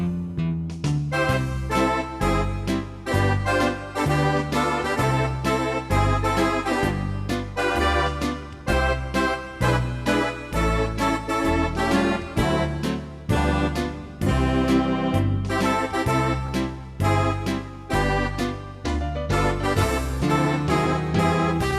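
An LC & SE series intermediate keyboard plays a full song with its automatic intro, dense layered instrumental music with a steady beat running continuously and loud throughout.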